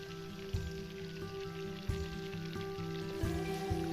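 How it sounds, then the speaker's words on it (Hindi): Ginger garlic paste frying in ghee gives a soft, even crackle over a low steady hum, with a few light clicks of a spoon against the pan. "हमने इसमें अदरक लहसुन का पेस्ट डाल दिया है और इसे अच्छे से फ्राई करेंगे"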